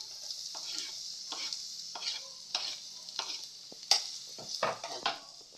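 Onions tossed into a hot pan and stirred while frying, for Filipino shanghai, giving a steady hiss with repeated scraping strokes at an even rhythm, close up and moderately loud.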